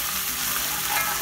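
Ginger-garlic paste, onion and spices frying in a pan for a spicy octopus dish, a steady close sizzle with faint stirring and no talk.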